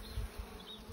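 Bees buzzing around an opened long hive during an inspection, a steady close drone with slight swells, no talking.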